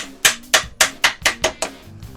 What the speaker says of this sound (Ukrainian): вибиваючи болт, забиваю шпильку